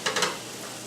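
Onion and garlic hit a pan of browning potatoes, giving a few quick scraping stirs over a soft, steady sizzle of frying.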